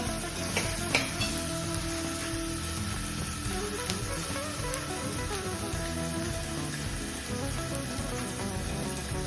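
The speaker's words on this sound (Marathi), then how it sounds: "आणि हा मसाला चांगला परतून घ्यायचा" Red chili powder and turmeric sautéed for a spicy masoor dal, a continuous close sizzle of spices frying in a pan with occasional stirring scrapes, steady throughout with no talk.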